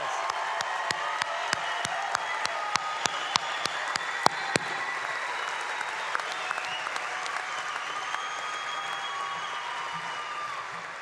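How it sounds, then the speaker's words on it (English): Applause fills the hall at a university fall commencement for College of Liberal Arts graduates, with a few loud, sharp nearby claps standing out early over a dense, steady crowd clapping that carries on throughout. "join me in a round of applause."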